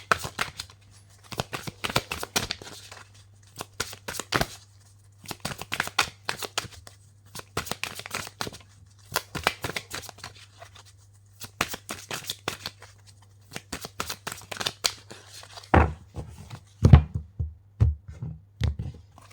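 Tarot or oracle cards shuffled by hand in repeated riffling bursts with short pauses between, close and crisp, ending in a few louder slaps and thumps as cards flip and land; no voices.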